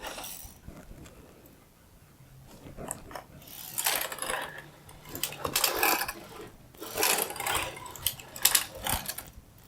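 A double bed knitting machine working two-color jacquard under AYAB control makes rapid clattering, ratcheting carriage passes in repeated bursts, loud and close, with quieter gaps between strokes.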